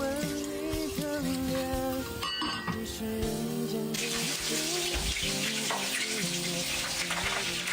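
Water is poured into a pot over ingredients and an opened packet of braising sauce, a steady rushing splash that grows fuller midway, heard under tuneful background music.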